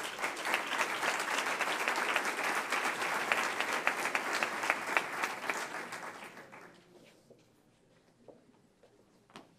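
A room full of people at an entrepreneurship awards ceremony in Fuenlabrada applauds warmly for several seconds, the clapping steady and then tapering off into a few scattered claps.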